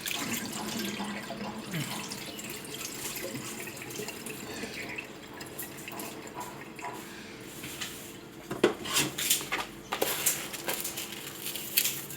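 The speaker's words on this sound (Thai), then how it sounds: "เริ่มแรกครับเราก็เอา ข้าวสารมาล้างครับมาซาวข้าวอย่างเงี้ยนะครับ" Uncooked rice rinsed in water in a kitchen, with continuous running-tap splashing and sloshing, then louder bursts of swishing and dripping near the end, close by with no voices.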